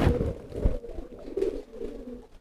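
Pigeons cooing in a loft or coop, a steady run of low, throaty coos close by, with soft rustling and no talking.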